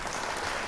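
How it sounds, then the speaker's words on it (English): Studio applause during a live radio show, a short dense wash of clapping filling the whole moment at steady moderate loudness with no talk over it. "I get my very first radio applause."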